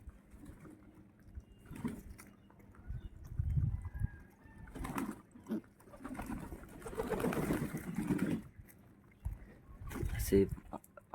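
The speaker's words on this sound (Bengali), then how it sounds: "দেখো কত পায়রা চারিদিকে" Pigeons cooing in soft low bursts amid flapping and shuffling, fairly close but quiet, with a person talking intermittently over them.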